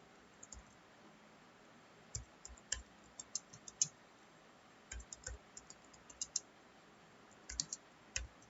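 Scattered keystrokes on a computer keyboard while an HTML program is entered in Notepad, arriving in short irregular bursts of quiet clicks separated by pauses, close by with no talking.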